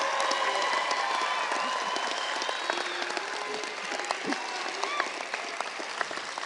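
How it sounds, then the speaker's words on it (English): Steady crowd applause at a university convocation, many hands clapping evenly throughout with a few scattered cheers and voices, gradually easing toward the end. "Can you please all join me in giving Mr. Cooper a round of applause"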